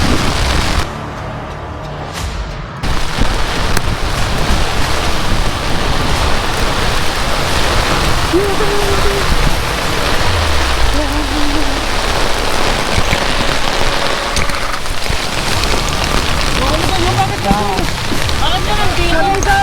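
Heavy rain pours down hard and steady throughout, a dense close roar on a muddy outdoor path, with people shouting and talking over it.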